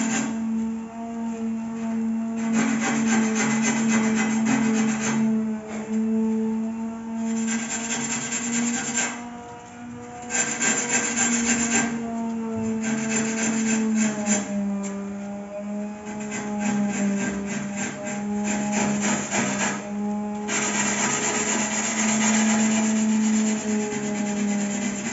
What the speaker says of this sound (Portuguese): Então eu vou passar essa lixa para ferro. Essa lixa aqui é número 80, tá?